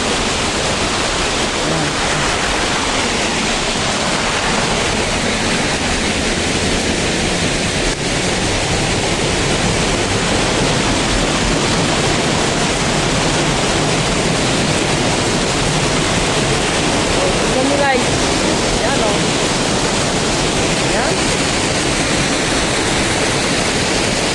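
Steady, loud broadband roar of a waterfall in Barangay Dadatan, Dolores, Quezon, filling the whole stretch with constant rushing water, with faint voices now and then beneath it.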